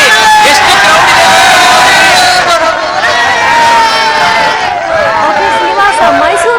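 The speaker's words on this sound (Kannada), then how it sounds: "ದಿವ್ಯಾ ನೋಡಿದ್ರಿ ಎಷ್ಟು ಕ್ರೌಡ್ ಇದೆ?" A large, excited crowd gathers at a cinema for the opening of the film Jaguar, producing loud, dense chatter and overlapping shouts that continue without pause, close and enveloping.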